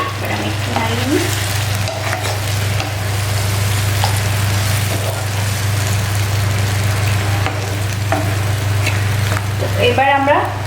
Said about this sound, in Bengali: আমি একটু নাড়িয়ে নিই।